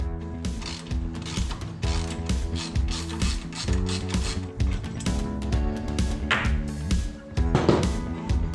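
A hand ratchet loosens bolts from the forward controls of a Harley-Davidson Dyna motorcycle, giving close, continuous rapid clicking with a steady back-and-forth rhythm throughout.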